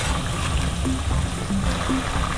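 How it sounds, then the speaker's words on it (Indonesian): Thick coconut milk pours into a pot of opor ayam, a steady soft trickling stream running unbroken throughout at moderate level. "Kita kucurkan santannya"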